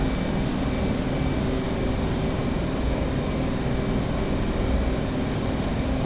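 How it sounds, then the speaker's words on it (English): Steady, loud propeller-aircraft drone in a flight simulator game, holding an even roar with no clear rise or fall, as during a flyby in formation over a military air operation. "I was doing a flyby right when you did that flare"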